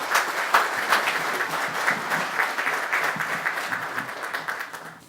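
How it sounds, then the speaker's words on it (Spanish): Warm applause from an audience at a business managers' meeting greeting an economist guest speaker, loud and close with dense overlapping claps and rhythmic surges before fading out at the end. "Lo recibimos con nuestros mejores aplausos"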